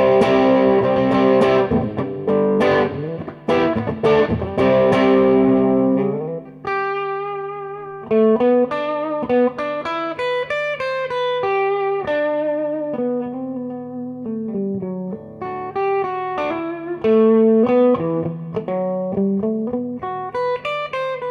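Electric guitar played through a Peavey Bandit amp with the bright switch engaged: strummed chords ring first, then a long run of clear single-note melodic lines with sustained tones, loud and alone.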